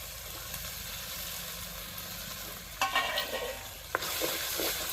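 Green chili paste and tomato pieces fry in a pan for a bitter gourd curry, with a steady sizzle and louder bursts of hissing and stirring scrapes midway.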